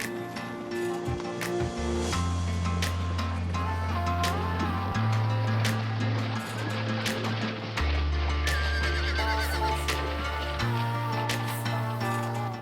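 Wild horses descended from Camargue stock neigh and whinny, with a few clip-clopping hooves, heard under steady background music.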